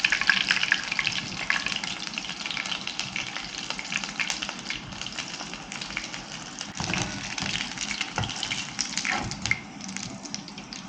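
Chicken pieces fry in hot oil with a dense, steady sizzle and crackle, spitting and popping like rain, fairly loud and close, with no talking.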